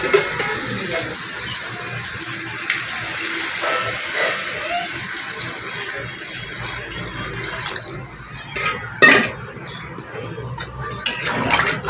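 Water is poured into a pot of carrot, potato and meat stew, a steady faint rushing splash lasting several seconds while someone talks over it in a home kitchen.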